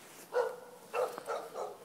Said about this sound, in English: two dogs right there just barking at me